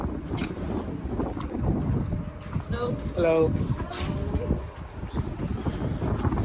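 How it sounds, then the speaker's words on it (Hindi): Strong, cold wind buffets the microphone on the open top deck of a Finland to Sweden cruise ship, rumbling steadily while someone speaks over it. "यहाँ चल रही बड़ी तेज हवा और ठंड, भयंकर ठंड है।"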